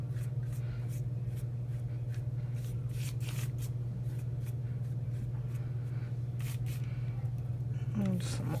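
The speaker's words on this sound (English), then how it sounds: "And spray some more water." A spray bottle misting water onto wet paint on a peel-and-stick paint chip, heard as a series of short, quiet spritzes at irregular intervals over a steady low hum, with talking mixed in.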